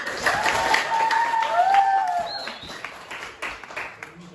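Classroom applause from students during an Indonesian lesson on rupiah money, a short burst of clapping mixed with voices and cheering over the room's chatter.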